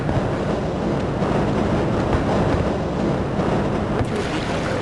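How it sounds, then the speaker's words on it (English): A Half-Life tram rumbles along its track inbound from the Area 8 topside, a continuous loud broadband roar with a steady rolling texture and no pauses. "This train is inbound from the Area 8 topside"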